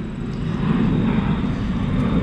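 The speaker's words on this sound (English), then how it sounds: "It's a giant military plane." A giant military plane flies overhead, its loud, steady low engine roar filling the whole stretch with no talking.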